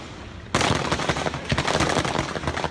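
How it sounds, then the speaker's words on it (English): Rapid bursts of assault rifle gunfire, recorded on a passerby's cell phone, crackle in dense, overlapping volleys, loud and continuous after a sudden start, with no voices. "The audio of the gunfire captured by a passerby with a cell phone."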